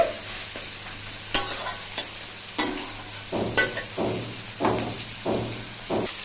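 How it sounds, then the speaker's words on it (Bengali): Spices for a fish curry being stir-fried in a pan with small splashes of hot water, a spatula scraping in a steady rhythm of strokes over a low sizzle, with one sharp clink near the start. "এইভাবে অল্প অল্প করে গরম জল দিয়ে কষে নিতে হবে।"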